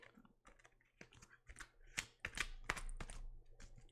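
Rapid clattering of cards being shuffled, a burst of crisp flicks and riffles that builds and then trails off, close to the listener.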